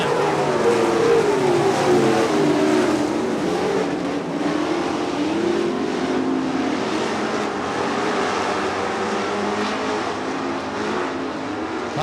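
Lightning sprint race cars roar around a dirt track, a dense, loud blend of engines rising and falling in pitch as they pass, sustained without pause.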